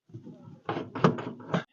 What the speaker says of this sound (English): Front door opens.